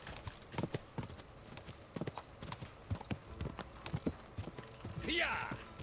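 Horse hooves gallop in Kingdom Come: Deliverance 2, a fast, steady clip-clop rhythm close by, with a short whinny-like burst near the end and some voices underneath.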